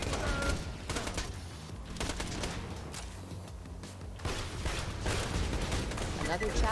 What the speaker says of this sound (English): this is definitely faster fire rate than the other 12 assault rifle I was using